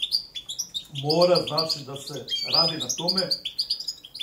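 A Balkan European goldfinch (Carduelis carduelis balcanica) sings quick, bright twittering phrases that keep going throughout, partly under someone talking in the foreground.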